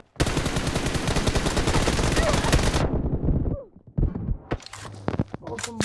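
Rapid automatic gunfire from a video game shooter rattles continuously for about two and a half seconds, then cuts to near silence before a few scattered shots and thumps.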